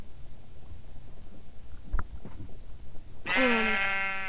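A single drawn-out Minecraft sheep bleat with a buzzy, slightly synthetic tone rings out near the end, after some low rumbling and faint thumps.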